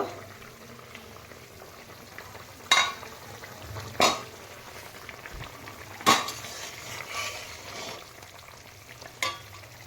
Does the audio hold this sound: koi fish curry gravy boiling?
yes